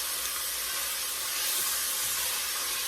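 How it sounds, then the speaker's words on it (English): Sliced mushrooms frying down in a pan before cabbage is added, an even, continuous bright sizzling hiss at steady volume with no pauses. "We'll let that continue to fry down before we put the cabbage in."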